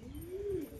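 A single close, rising-and-falling coo from a thin, weakened male pigeon at a farm, heard alone.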